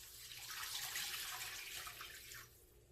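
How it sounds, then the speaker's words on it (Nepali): Water pours into a pan of garlic fried in ghee for rara noodles, making a steady, close gushing rush for about two seconds before it tapers off and stops. "पानी राखौं।"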